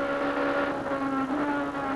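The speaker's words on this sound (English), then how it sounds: "There they go, Middlehurst, Rouse, Belm, Ford, Toyota, BMW, looking back again." Touring race cars, 1991 British Touring Car Championship Fords, Toyotas and BMWs, roaring past at speed at Silverstone, a dense, loud, continuous engine howl with steady pitch throughout.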